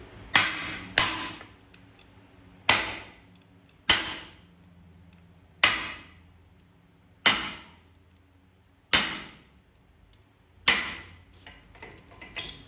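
A hammer strikes the yoke on a Super Duty Dana 60 axle, about eight sharp metallic blows spaced roughly a second or more apart, each ringing briefly before fading, with no voices.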